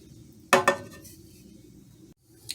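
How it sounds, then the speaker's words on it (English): A spoon clinks twice against a pot while stirring a sauce for southern scalloped potatoes, a sharp close metallic double knock, then a quiet stretch and one faint final tap. "and you want to go ahead and stir it so it doesn't get any lumps"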